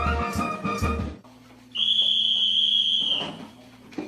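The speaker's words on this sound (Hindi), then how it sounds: "ठीक 10 बजे की सीटी ऐलान करती है सोने के वक्त का।" A whistle at an Indian army camp signals 10 pm bedtime with one loud, steady, shrill blast of about two seconds. Quieter ambient noise comes before and after it.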